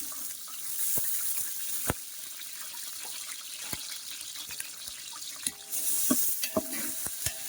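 Onions being added and stirred in hot ghee with whole spices for mutton dum biryani, giving a steady sizzling hiss with scattered sharp clinks and scrapes of a utensil against the pan, fairly close, with no talk.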